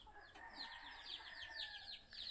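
Young chicks on a poultry farm peep continuously in rapid, high, descending chirps, a busy chorus heard close but at low volume.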